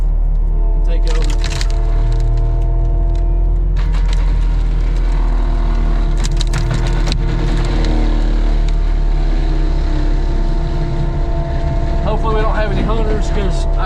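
A small tractor's engine runs loudly and steadily while mulching brush along a property line, with intermittent cracking and knocking noises and occasional voices over it.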